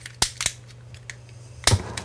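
An oxygen-propane torch lights for heating a crucible, giving a few sharp pops and clicks followed by a brief whooshing burst.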